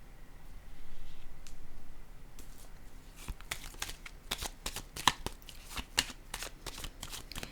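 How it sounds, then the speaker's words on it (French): Playing cards handled and set down on a table during a card reading, heard as a run of sharp, close taps and light slaps with soft rustling, alone and without speech. "Je vais déposer une autre carte ici."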